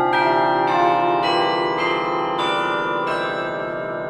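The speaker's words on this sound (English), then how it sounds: "So if we play a passage in tenths, I like to think we're inherently amplifying that major 10th in the bell." Bells strike a passage in tenths, a series of rich, ringing strokes about every half to two-thirds of a second, each new note sounding over the sustained hum of the ones before.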